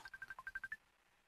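A cellphone rings with a quick run of about nine short electronic beeps in steady rhythm, fairly faint, then stops into near silence.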